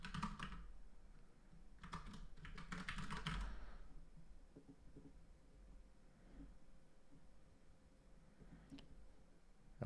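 Keys on a computer keyboard clatter in short, quick bursts as a name is typed, close and soft in a quiet room, followed by a long near-silent pause with a few faint taps.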